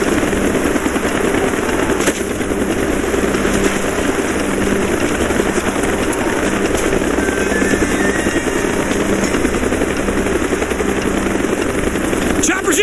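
A helicopter approaches in the Call of Duty Black Ops video game, its loud, steady rotor roar running continuously through the whole stretch over dense battle noise.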